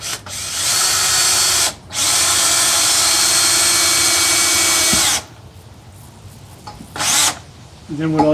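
A power drill whines loudly in two long bursts driving screws into a wooden camp table frame, then goes mostly quiet apart from a shorter final burst and faint handling noises.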